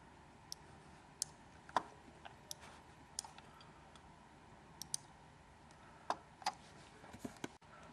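Computer mouse clicking, a scattered series of small, sharp, quiet clicks at irregular intervals over faint background hum.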